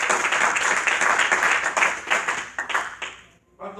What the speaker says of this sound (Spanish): Un aplauso fuerte a la gloria de Dios.